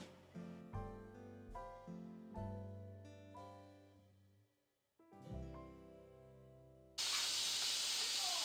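Steady loud hissing of steam rushes out of a pressure cooker as it builds pressure at the end, following a stretch of musical tones.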